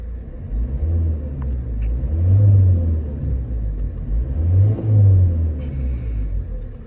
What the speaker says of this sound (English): I'll give it a quick rev so you can hear the engine.